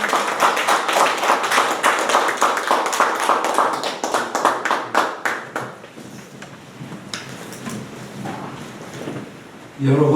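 A lecture-hall audience claps in a dense burst of applause at an anti-corruption education lecture. The clapping thins and fades out after about five seconds, leaving quiet room noise.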